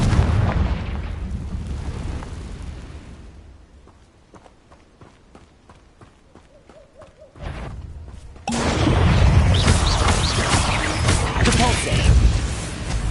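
Confringo fire spell explosions in Hogwarts Legacy: a loud rumbling blast fades into quiet tapping, then two heavy booming bursts hit in quick succession and roar on. A voice can be heard.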